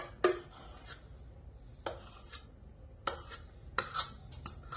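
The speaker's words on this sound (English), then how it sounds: "I usually shake the pan so that it flattens out" A cake pan filled with carrot cake batter is shaken, giving several short, crisp metallic rattling bursts with quiet pauses between them.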